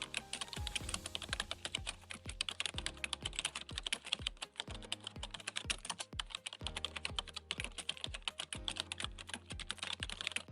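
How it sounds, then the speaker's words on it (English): Fingers type steadily on a computer keyboard, a fast, continuous run of clicky keystrokes heard up close with brief pauses, with no voices over it. "type in Swing Arm ATR Trend and hit enter"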